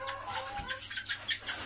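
Month-old chicks cheep in a brooder, a run of small high peeping calls scattered across a short moment at close range, with no talk over them.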